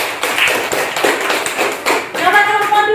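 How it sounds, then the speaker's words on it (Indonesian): A sixth-grade class at an Indonesian primary school claps for group 1: a dense patter of hand claps, fairly close and steady, with voices rising near the end. "tepuk tangan untuk kelompok 1"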